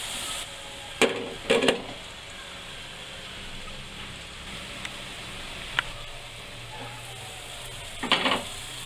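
Tomatoes and onions for a mushroom masala cook in a lidded pan with a low, even sizzle, punctuated by a few sharp clinks and scrapes as they are stirred now and then.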